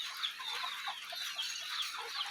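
Faint, rapid peeping and soft clucking come from month-and-a-half-old chicks huddled with their mother hen. The calls are small and overlapping and continue without pause, with no talking.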